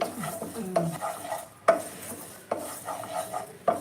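Sesame seeds with cumin are dry-roasted in a pan, heard as close, rhythmic scraping strokes of a spoon with gritty rustling of seeds and a faint sizzle between strokes.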